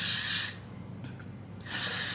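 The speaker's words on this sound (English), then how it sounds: "So I'll just spray the top section and push away any little hairs." Hair spray hisses from an aerosol can onto the top section of curly hair in two short bursts, the first about half a second long and the second about the same after a quiet gap.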